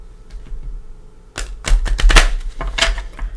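Tarot cards being shuffled close up: a cluster of quick riffling taps and flicks following a quieter start, irregular and crisp.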